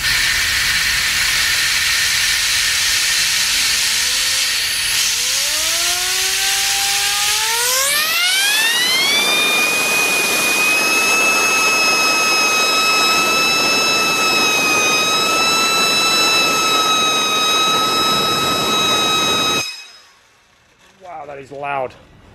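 A high-pitched turbine wheel with plain, non-ball-bearing bearings whines, rising steadily as it spins up to high RPM, then holding a loud, piercing tone over a rushing hiss before abruptly winding down.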